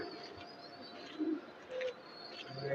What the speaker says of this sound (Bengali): এই যে একটা মাদি কবুতর